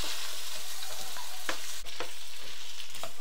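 Mutton pieces sizzle and fry steadily in a hot pan seasoned with salt, turmeric and small onions, with a few scraping stirs cutting through the constant loud hiss.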